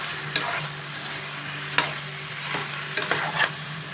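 Fish pieces coated with turmeric and chili sizzle quietly in a pan, with a few clinks and scrapes of stirring over a steady low hum.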